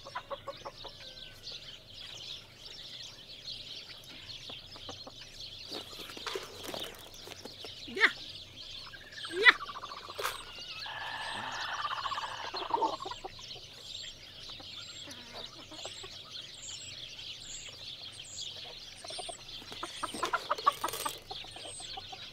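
Chickens and turkeys on a farm call and cluck on and off over a low, steady background hum, with a louder gobbling burst in the middle and more calls toward the end.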